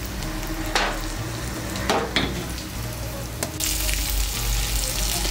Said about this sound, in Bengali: এক পাশ হয়ে গেলে উল্টে আরেক পাশ লাল করে ভেজে নেব।